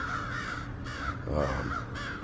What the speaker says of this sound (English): the crows are kind of mobbing him, trying to get him to leave